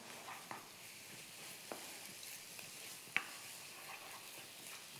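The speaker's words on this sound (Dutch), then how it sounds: "Bakken we hem 5 minuutjes zo." Green curry with cod and spinach sizzles on high heat in a pan, a quiet steady fry with occasional soft taps of stirring.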